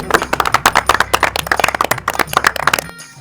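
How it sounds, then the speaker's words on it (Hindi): A group of people clap together in dense, irregular bursts for about three seconds to congratulate a newly elected village head, fairly close and loud, then stop abruptly. "बजाओ ताली"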